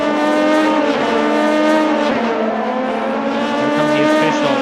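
Race cars in a sim racing game roar down the Mulsanne Straight at Le Mans, a loud sustained engine drone with layered harmonic whine and slight shifts in pitch, filling the whole stretch without pause.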